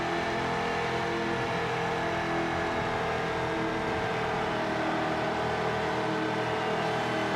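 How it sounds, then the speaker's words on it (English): Race cars in the video game Ford Racing 2 produce a loud, unbroken engine drone that holds at an even level throughout. "These cars are quite loud apparently."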